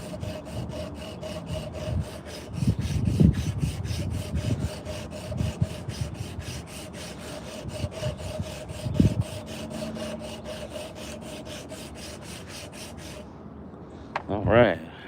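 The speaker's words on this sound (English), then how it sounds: "High speed sander. I can go a little faster." A high-speed sander runs on a wooden coffee scoop, a steady whirring hum with a regular pulsing buzz and bursts of rubbing grit as the piece is pressed in, cutting off near the end before a brief clatter.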